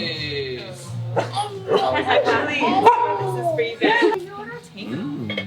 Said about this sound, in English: Oh, the dog, I know!